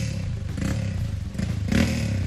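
A motorcycle engine idles while warming up, a close, loud, rough low rumble with a slight rev swell near the end.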